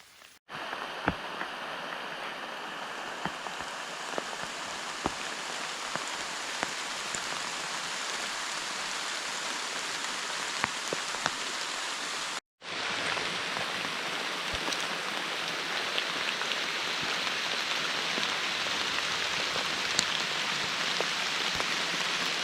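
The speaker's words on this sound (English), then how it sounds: "hopefully the rain lets up. I'm soaking wet." Heavy rain pours steadily through the woods on an early November day, a dense continuous hiss with scattered sharper drops, briefly cut off partway before resuming just as strongly.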